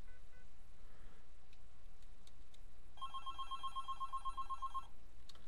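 A telephone rings on a Cisco MGCP analog gateway line during a call transfer: one sustained electronic ring burst of about two seconds, clear and moderately loud over quiet room hiss with a few faint clicks.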